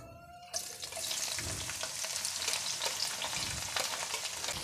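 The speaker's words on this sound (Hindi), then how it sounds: "प्याज को हल्का सा फ्राई कर लें।" Sliced onions hit hot oil with cumin and carom seeds and break into a sudden, steady, close sizzle that keeps crackling evenly while being stirred for a spicy capsicum dish.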